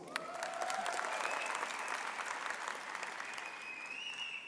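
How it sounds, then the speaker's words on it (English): Sustained audience applause at a university autumn graduation ceremony, steady dense clapping from a large hall crowd lasting throughout, fairly distant and even. "Let's get ready to clap."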